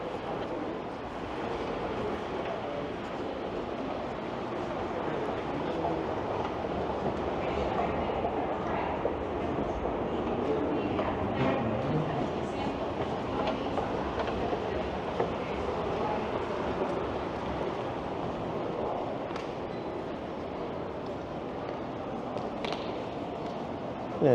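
A train rumbles steadily through a busy Toronto station, with indistinct voices and echoing chatter mixed in throughout.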